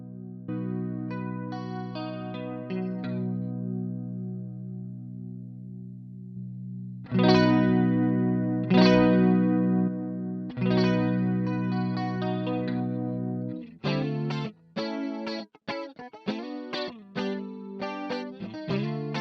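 Guitar through a Boss GT-100 with a chorus effect set like a jazz chorus amp, held chords ringing out and then quicker picked notes, clear and alone.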